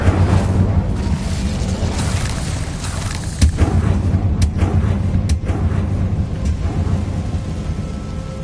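Incendio fire spell cast in Hogwarts Legacy on PS5: a loud, continuous roaring blast of flame with a few sharper bursts standing out, filling the whole stretch with no voices.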